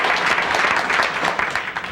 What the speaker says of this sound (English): If you applaud, you only waste time that I could use talking to you.